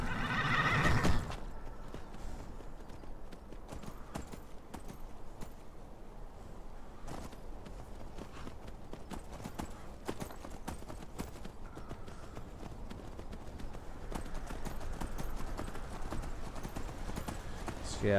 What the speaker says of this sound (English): I think I have a horse horn. Yeah, go away. No. Horse call.